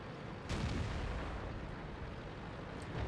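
Tank gunfire in the World of Tanks video game booms out in a loud, heavy blast that gives way to a continuous low rumble of battle noise.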